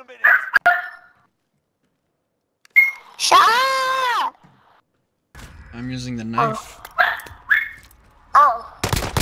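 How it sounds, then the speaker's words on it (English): A pet dog barks and lets out a drawn-out whining howl close by, between stretches of people talking, with a couple of dull thumps in between. "Yeah, that's my dog."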